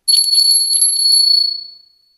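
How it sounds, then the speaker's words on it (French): A small handheld bell bought in Korea is struck once and rings with a bright, high, clear tone, close and loud, then decays smoothly over about two seconds into silence. "J'en profite pour réinitialiser les énergies avec ma nouvelle petite cloche que j'ai achetée en Corée."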